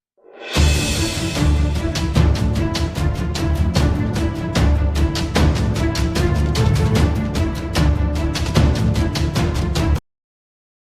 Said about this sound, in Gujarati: અત્યારે વરસાદ ચાલુ થઈ